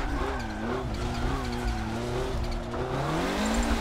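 Wide-body MK5 drift car in a driving video game, its engine note rising and falling with turbo flutter and tire squeal throughout, loud and continuous with no talking.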